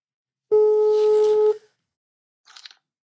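A telephone call tone sounds as one steady electronic beep of about a second, then silence and a brief faint burst of noise.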